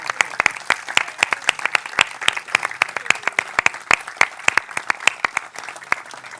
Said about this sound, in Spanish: Dar un aplauso para ellos